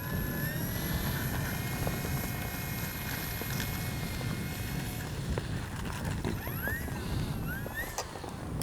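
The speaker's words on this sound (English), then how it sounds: "Let's go ahead and take it up one more time, just for giggles." An FMS PC-21 Pilatus RC model plane flies in a steady, loud, continuous engine whine that holds level throughout, with no voices.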